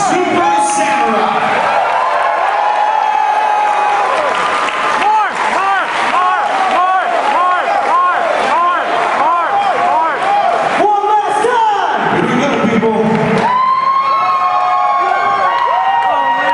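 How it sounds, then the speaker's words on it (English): A packed convention panel audience roars for the Super Samurai cast, with sustained loud cheering, whoops and shouts layered over a dense crowd din that swells and holds for the whole stretch. "give a big round of applause to the cast of Super Samurai"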